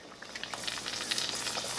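Cheeseburger egg rolls frying in hot oil, a steady close crackling sizzle with small popping bursts that builds slightly over a couple of seconds, with no voices.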